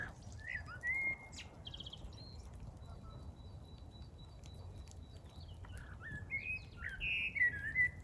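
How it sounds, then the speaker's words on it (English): Outdoors in a French village, a bird sings a few high, clear whistled phrases, spaced apart over a steady low background rumble. "I stopped here to listen to this bird sing."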